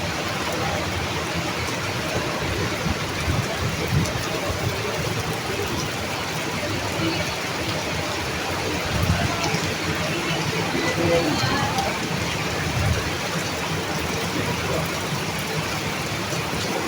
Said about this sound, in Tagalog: Grabe guys, lakas ng ulan.